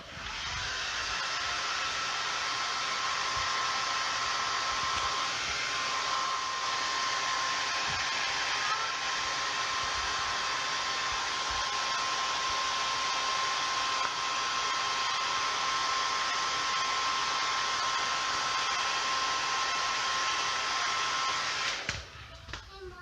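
A heat gun blows on the plastic of a copper 3D mask being assembled, a loud, steady whooshing drone with a thin whine running unbroken for over twenty seconds before cutting off near the end.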